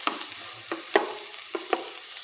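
Onion, tomato, carrot and peas sautéing in a pan for Maggi noodles, a quiet sizzle punctuated by several distinct spatula scrapes and taps, close up with no talking.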